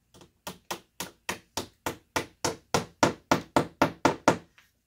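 A hammer taps a picture hanger into a wall, about fourteen sharp knocks in a steady rhythm, quiet at first and growing firmer, close by with no talk.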